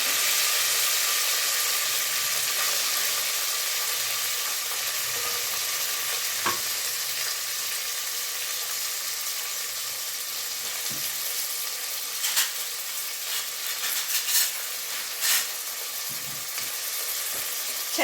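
Onions sizzling in a pan, a continuous close hiss of frying with occasional clicks and scrapes of stirring throughout.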